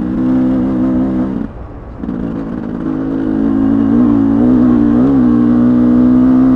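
A motorcycle engine drones steadily while riding, with a brief dip around a gear change and then a smooth rise and fall in pitch. It is loud and near, with no talking.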